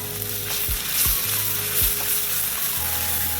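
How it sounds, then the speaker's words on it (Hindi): Spices, ginger and crushed garlic sizzle steadily in hot oil for a beef tawa keema, with a few sharp clinks of a spoon stirring in the pan, close and continuous. "इसे अच्छी तरह से फ्राई करेंगे।"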